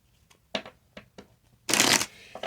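A tarot deck is handled close up: a few soft card flicks and taps, then one loud, dense riffle shuffle lasting about a third of a second, followed by quieter card handling.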